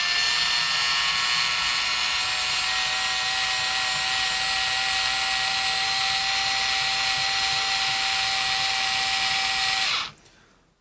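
A HART 4V rechargeable screwdriver whirs steadily at full speed for about ten seconds, a loud, even high-pitched motor whine that then winds down and stops, with no talk.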